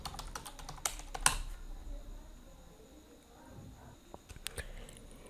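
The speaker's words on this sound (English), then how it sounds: "and here type Bluetooth." Short burst of quick keystrokes on a desktop computer keyboard, light clicks close by, followed by a quieter stretch with a couple of isolated taps.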